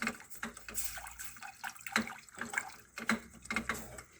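Cold milk pours into a pot of mushroom soup and is whisked fast, giving a busy, splashing liquid wash with quick sloshing strokes, close and fairly loud, with no talking.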